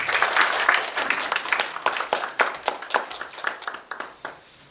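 Sustained applause from an audience at a forum and talk concert marking a village community project's tenth anniversary, dense clapping that thins into scattered individual claps and fades toward the end, with no voices over it.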